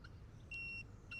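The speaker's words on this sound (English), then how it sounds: "you will hear the remote beep." A Boatman Vulcan Mini GPS bait boat remote gives a clear electronic beep, a steady high tone lasting about a third of a second, with a shorter beep starting at the end, over a quiet outdoor rumble.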